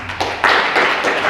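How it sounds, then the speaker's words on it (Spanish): Audience at a Spanish-language lecture on neural-network language processing breaks into applause to welcome the speaker, the clapping swelling quickly from a few hands to a dense, close burst. "quisiera que lo recibieran con un fuerte aplauso"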